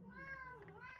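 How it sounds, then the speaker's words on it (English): A cat meows in a drawn-out, wavering cry across the whole second, close and fairly loud, with a low background hum beneath it. "He's meowing."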